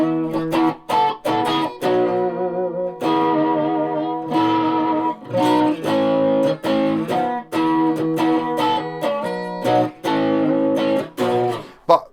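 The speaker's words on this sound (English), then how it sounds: "I'll put a wee bit of just overdrive on." A Watkins Rapier 44 electric guitar plays through light overdrive, with choppy strummed chords and single notes in a loud, close phrase broken by short gaps and no talking.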